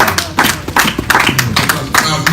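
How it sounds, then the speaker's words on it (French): A church congregation at a special worship service claps in a steady rhythm of sharp, loud beats close by, with voices speaking and calling out over the clapping. "Acclamez le Seigneur"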